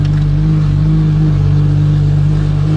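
A Ferrari LaFerrari with a straight pipe exhaust holds a loud, close, steady engine drone with a strong low hum and tonal whine, barely shifting in pitch over a few seconds.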